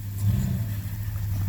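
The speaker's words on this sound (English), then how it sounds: "A big truck just went up the road." A big truck climbs a snowy road during a January snowstorm in Huntington, West Virginia, giving a brief, steady low engine rumble at moderate distance.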